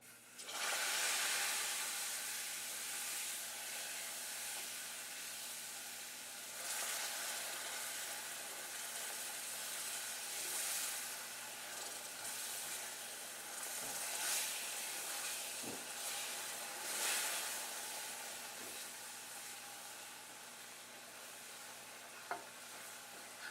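Turkey gravy sizzles and simmers steadily in a pan as stock is poured in and stirred, a continuous broad hiss with occasional scraping clicks, close and fairly loud with no talking.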